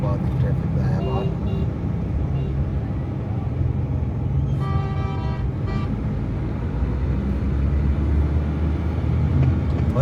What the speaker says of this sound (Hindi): इस्लामाबाद की ट्रैफिक का है हाल